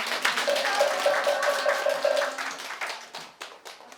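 Audience applause at the close of a Buddhist dharma talk: a steady patter of many hands clapping at moderate distance, gradually thinning and fading out by the end.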